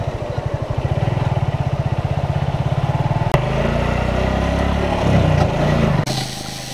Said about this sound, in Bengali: আমার বন্ধু বাইক নিয়ে চলে আসছে